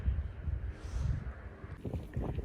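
Gusty wind buffets the microphone with low rumbling noise throughout, swelling and easing, with no talking, on a windy, rainy day at Culloden Battlefield in Scotland.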